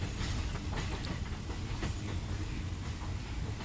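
Thai passenger train 141 from Bangkok to Ubon reverses slowly into platform 9, giving a steady, loud rumble of rail cars with soft rhythmic clacks and hiss throughout, and no voices.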